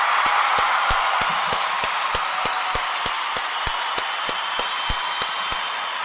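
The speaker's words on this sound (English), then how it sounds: "I want to give all of the Kuumba babies a round of applause" Steady rhythmic clapping at a Kuumba celebration gathering, sharp even claps about three per second over a constant bright crowd wash, carrying on alone for several seconds without talk.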